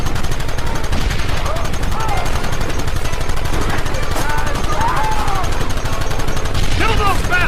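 Gunfire in Red Dead Redemption on PS3 crackles nonstop as loud, rapid, continuous shooting that fills the whole scene, with shouting voices mixed into the battle.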